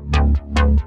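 Synthwave bass pairing a deep sub bass with a chorused higher bass layer: two pulsing plucked notes repeated twice in quick rhythm, loud and close, no talking.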